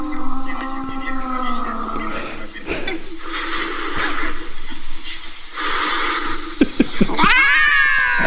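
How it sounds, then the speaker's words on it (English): A cat meows into a karaoke microphone in drawn-out, wavering cries, amplified and echoing, with people chuckling and talking around it and a final rising yowl. "We heard that cat meowing into a karaoke microphone."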